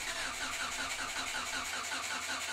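Hyundai car engine, just fitted with an ECMlink engine management system, cranking and catching into a steady, loud mid-pitched run up close, with a rhythmic pulsing throughout and no voices.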